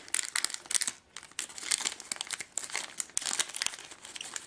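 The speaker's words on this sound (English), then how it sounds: "I'm just going to rip it open here" Plastic packaging around a small white motherboard adapter being torn and ripped open up close, a dense run of crinkling and crackling bursts with a brief pause near the first second.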